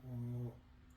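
A single dog snore, a low, droning, nasal tone lasting about half a second, close and fairly quiet, then fading into soft room noise.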